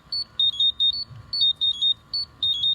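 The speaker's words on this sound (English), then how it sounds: "If I actually pushed it a little closer, you'd see it would alarm and go up quite rapidly." A firefighting gas monitor's sensor alarm sounds in rapid clusters of sharp, high electronic beeps, two or three per burst with short gaps, against a steady low hum and no talking.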